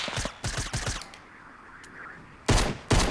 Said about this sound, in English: Come on, pistol, hit a shot, will ya?